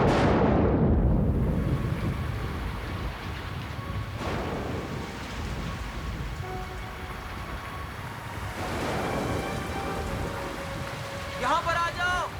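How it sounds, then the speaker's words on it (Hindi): Steady rainfall hisses through a broad wash of noise at moderate loudness, with a deeper surging rumble underneath and a few brief tonal sounds toward the end. "यहाँ पर बारिश से बच सकते हैं।"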